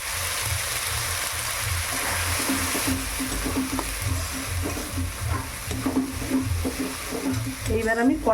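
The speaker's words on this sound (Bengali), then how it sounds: "এইবার আমি কড়াইশুঁটিটা ভালো করে নেড়ে নেড়ে রসটা মেরে নেব।" Green peas stirred and fried in a hot wok with oil, nigella seeds and asafoetida: a steady close sizzle throughout, broken by repeated scraping strokes of the spatula against the metal.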